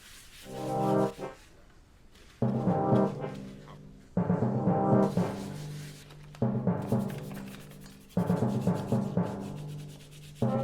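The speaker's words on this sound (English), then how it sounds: "Then you guessed it, more sanding." Rhythmic hand sanding of a primed 3D-printed Boba Fett helmet, with repeated rasping strokes in several bursts separated by short pauses, close and fairly loud, no voices.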